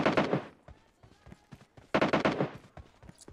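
Gunfire in PUBG Mobile, two dense bursts of rapid shots near the start and again midway, with scattered single cracks between them.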